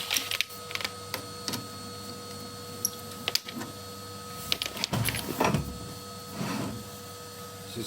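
Chimney sweep brush rods scrape and knock up inside the flue liner of a Portway Arundel wood-burning multi-fuel stove, giving faint irregular scratching, thumps and rattles with a steady background hum.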